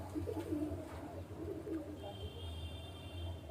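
Several pigeons in a loft give low, rolling coos close by, soft repeated burbles running through the whole stretch, with no talk over them.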